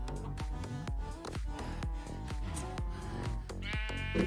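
Sheep bleating in the video game Minecraft, with several short bleats over a steady backdrop of game music and sound effects.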